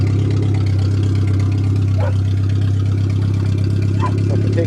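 Suzuki Swift 1.3 petrol engine idling on a farm, a steady loud low hum with constant pitch throughout, a couple of faint brief chirps above it.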